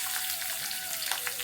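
Onion and garlic sizzle steadily in a hot pan, a continuous close frying hiss with faint crackles running the whole time, no talking.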